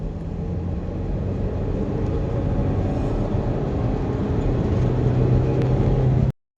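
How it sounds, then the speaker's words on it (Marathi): A diesel Maruti Swift's engine pulls hard under acceleration, a loud, steady droning rumble that holds throughout before cutting off abruptly at the end. "दोन हजार आरपीएम जशी क्रॉस करते गाडी तशी एकदम बुम घेते"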